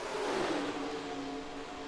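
Simulated stock cars race three and almost four wide in NASCAR Racing 2003 during a Gatorade 300 event, giving a short, steady roar of engines that fades slightly.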